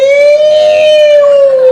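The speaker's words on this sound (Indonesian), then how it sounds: "Begitu datang sirene dari arah Medan" Siren approaching from the direction of Medan, a single loud, sustained wailing tone that rises slightly and then eases back down over its short length.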